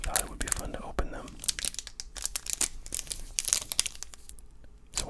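Wrapper of a 1990 Topps baseball card pack crinkled and torn close up, with bursts of crisp rustling and crackling and quieter pauses between them, and soft whispering in places.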